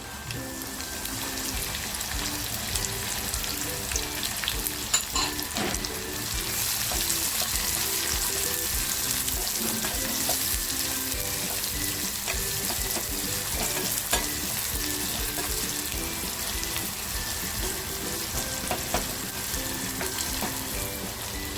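Sliced onion frying in a pan of hot oil while cooking a dry sprouted moth bean and potato dish, a steady dense sizzle running the whole time with a few scrapes of stirring and no talking.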